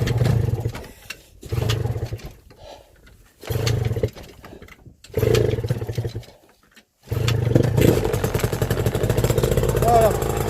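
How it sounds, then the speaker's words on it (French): A Peugeot 103 hybrid moped engine is pulled over by its pull cord in repeated bursts, each rough motor churn lasting about a second, then runs longer near the end; someone talks between attempts. "on voit bien que ça entraîne le moteur"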